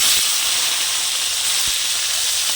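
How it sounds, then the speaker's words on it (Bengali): Salted, turmeric-coated fish frying in hot oil, a dense steady sizzle and hiss throughout, close and fairly loud, with no talking. "তেলটা আমার গরম হয়ে গেছে, এর মধ্যে আমি মাছগুলো একসাথে দিয়ে দেব"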